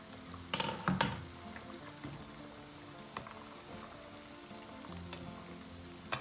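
Sauce for Van-style püşürük aşı simmers in a pan with a soft, steady sizzle and gentle bubbling, plus a few louder clinks of a utensil near the start.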